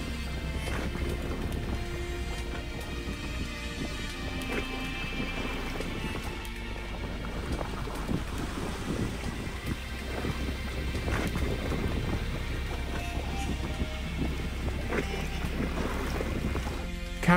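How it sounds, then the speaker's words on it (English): Sailboat moving across open sea off Dominica, with a constant roar of wind buffeting the microphone over churning water and low rumble, steady and loud throughout with no speech. "we sail fruitlessly through the waters of the island"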